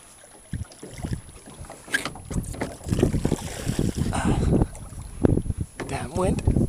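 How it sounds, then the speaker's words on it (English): Wind gusts buffet the microphone out on open water near reeds, rumbling and roaring unevenly up close while someone talks and mutters over it. "Damn wind."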